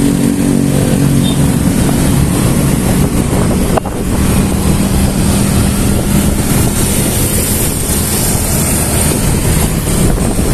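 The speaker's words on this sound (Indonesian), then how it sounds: "Teman-teman bisa lihat di depan kita, bentor, becak motor." A bentor, a motorized becak rickshaw used as public transport, drones steadily on a Makassar street, close and loud, with a continuous engine buzz mixed with traffic and wind noise.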